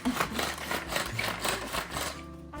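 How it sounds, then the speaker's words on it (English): Electric hand mixer whirring steadily while blending homemade kimchi sauce in a bowl, a continuous buzzing motor sound with slight scraping, close and fairly loud with no talking. "I don't have a good blender for this, so I'm just gonna use a hand mixer."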